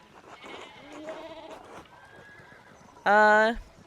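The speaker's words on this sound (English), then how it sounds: "we need to get these sheep under control" A sheep bleats once near the end in the Pentiment video game, a loud, close, harmonic wavering call of about half a second, following a stretch of quieter speech.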